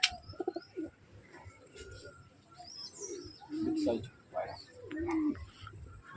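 Pigeons, including Rampuri and Jora breeds, coo in soft, low bursts close by, several calls rising and falling over a few seconds, with chirps and bird calls in the background and a person talking at times.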